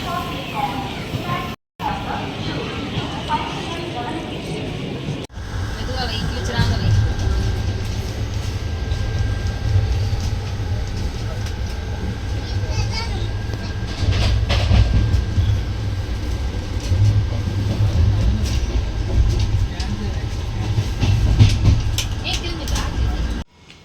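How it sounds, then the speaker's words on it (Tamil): A passenger train pulls into and runs through a station on a family trip to Varkala, with a steady low rumble and rattling carriages heard close for a long stretch, with background voices. "ஒரு வழியாக எங்கள் ட்ரெயின் வந்துருச்சுங்க."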